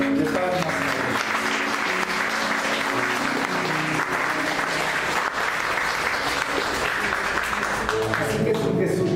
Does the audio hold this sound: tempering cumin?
no